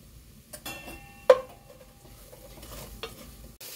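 A spoon scrapes and clinks in a pan of spiced eggplant curry as masala is sautéed, a few sharp metallic knocks over a faint, quiet sizzle with no talking.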